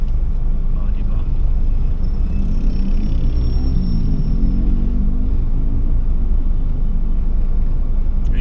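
Heavy road traffic in Antipolo, Rizal, rumbles steadily from close by, a dense low roar of passing engines with talking over it.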